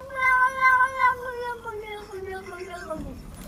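A cat gives a long, strange, drawn-out meow that slides downward in pitch, fairly clear and close, followed by a softer wavering cry at the end.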